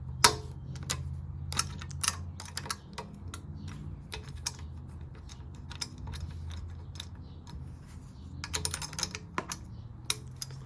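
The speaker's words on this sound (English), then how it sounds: "Just use a little 8mm wrench to unscrew these screws back here." Small metallic clicks and ticks from an 8mm wrench unscrewing rack screws at the back of an Ariel Rider Kepler e-bike, irregular close taps with brief bursts, no talking.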